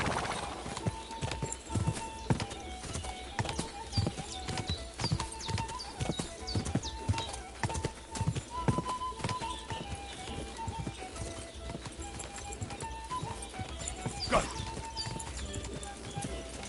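Horse hooves pound in a fast, steady galloping clip-clop in Kingdom Come Deliverance 2, close and continuous across the whole stretch, with someone talking over the rhythm at times.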